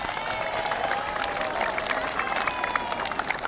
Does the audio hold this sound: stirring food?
no